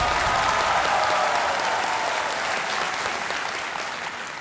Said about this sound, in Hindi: एक बार फिर तालियां बज जाएं।